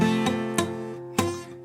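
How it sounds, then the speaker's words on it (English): Muted, buzzy guitar bar chord strummed three times, with dead, unclean strings and short sharp attacks, close and alone. "Do your bar chords right now sound like this?"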